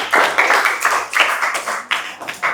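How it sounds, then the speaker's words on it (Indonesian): A classroom of students claps for a classmate who has just presented, a short burst of loud, uneven hand claps in clusters rather than a smooth roar. "tepuk tangan buat kawannya"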